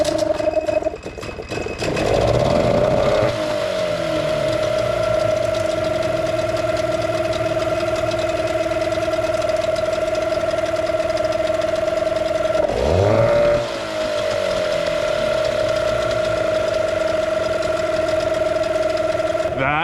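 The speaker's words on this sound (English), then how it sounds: "first start attempt for this outboard in a very long time" A long-unused boat outboard motor fires on the first pull and settles into a steady, even idle with a clear droning tone, briefly revving near the middle before returning to a smooth idle.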